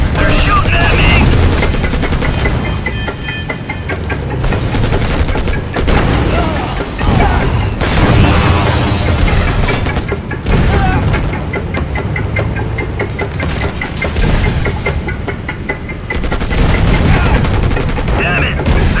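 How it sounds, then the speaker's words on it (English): Gunfire from the war game Act of War: Direct Action, with dense, sustained bursts of shots and booms layered over a rumbling engine and battle noise, loud and continuous, while voices talk throughout. "They're shooting at me!"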